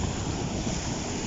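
Steady roar of ocean surf on a beach in Zamboanga City, continuous and fairly loud with wind buffeting the microphone, no voices.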